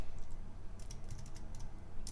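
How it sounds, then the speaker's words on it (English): Computer keyboard typing during a coding session, a few quick bursts of soft clicking keystrokes at moderate level over a steady low hum. "Now I'm really bad at typing today"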